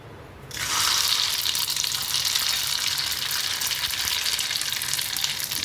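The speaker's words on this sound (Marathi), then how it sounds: "तेल चांगलं गरम झालं आहे, त्यामध्ये आपण मोहरी आणि जिरं टाकून घेऊया।" Mustard seeds and cumin drop into hot oil for a dal tempering, bursting into a loud, steady sizzle after a brief quiet start, with crackling spatter continuing throughout.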